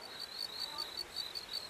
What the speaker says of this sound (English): This is the cry of some insects here.